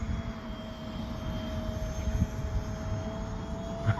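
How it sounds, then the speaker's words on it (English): A J35 brushless electric ducted-fan RC jet plane flies overhead, its steady whining fan drone holding at fairly constant loudness throughout, with no talk. "I'm liking the way this plane flies."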